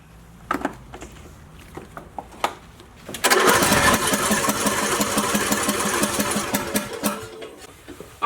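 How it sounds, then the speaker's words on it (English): A lawn mower engine is pulled over several times with sharp cranking clicks, then catches after starter fluid is sprayed into the air intake and runs loudly and roughly for about four seconds before cutting out. "We're going to spray a little starter fluid into our air intake, and it might give it just enough of a kick to get started."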